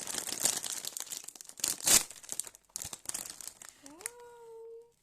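Crisp bag of chips torn open and crinkled up close, with sharp bursts of rustling and crackling, then a brief meow-like vocal tone near the end.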